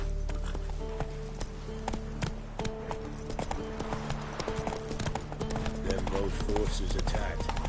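In The Witcher 3, the horse Roach runs with rapid, rhythmic clip-clop hoofbeats that stay close and prominent, and game voices and effects sound over them.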